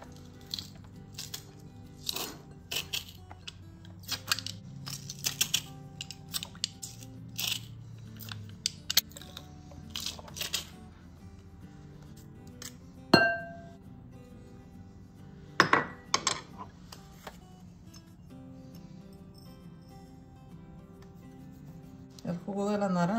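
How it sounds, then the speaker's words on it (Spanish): A bowl of pork loin is stirred with adobo seasoning, giving intermittent clinks, taps and soft wet scrapes spread sparsely over a quiet, steady background. "Ya voy a revolver todo con lo que lo voy a sazonar."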